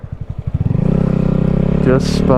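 A motorcycle's rear wheel spins out on snow as the engine revs from loose, rapid thumps into a loud, steady drone close to the microphone.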